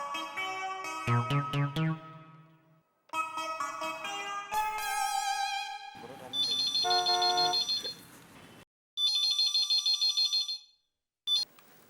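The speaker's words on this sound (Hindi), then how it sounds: "जेठा को फोन करके बुला लेता हूँ।" A series of electronic telephone ringtones and trilling ring tones from a phone in an Indian sitcom play loudly, switching patterns with short silent gaps between bursts, no voices.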